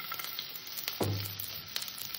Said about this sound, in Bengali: পেঁয়াজটাকে আমি হালকা সোনালি করে ভেজে নেব